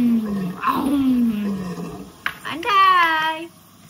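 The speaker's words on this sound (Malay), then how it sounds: "Bunyi ini garang. Siapa yang mengaum? Betul, ini singa." A lion's roar, loud and close, swelling and fading over about a second, after a stretch of a voice talking in a low, growly tone.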